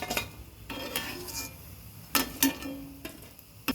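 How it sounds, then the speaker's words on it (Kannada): Pieces of deep-fried Maggi noodles are lifted out of hot oil with a metal utensil, bringing light clinks and a few sharper taps against the pan over a faint frying hiss, with no talking. "ಈ ಥರ ಫ್ರೈ ಮಾಡಿ ತೆಗೆದಿಟ್ಕೋಬೇಕು."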